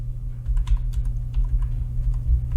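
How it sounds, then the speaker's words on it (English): Someone types on a computer keyboard, entering text into settings software: a steady patter of close keystrokes over a low constant hum, with no talking. "you can just type in localhost"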